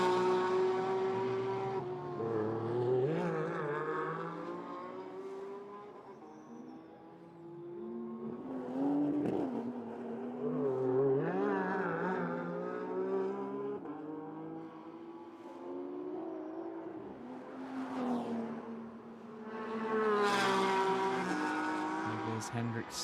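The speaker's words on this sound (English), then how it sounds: "Hendrik Still powering down on the faster sections here at the circuit" Race cars, including a Toyota Gazoo Racing entry, lap the Vila Real street circuit during qualifying, their engines rising and falling as they power past, mostly under continuous commentary.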